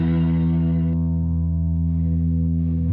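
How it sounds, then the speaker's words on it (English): EarthQuaker Devices Astral Destiny pedal switching to a different reverb preset, a loud sustained effected tone with steady harmonics whose upper shimmer drops away at about one second, then returns with a softer wash before the sound cuts off. "actually it's changing the reverb."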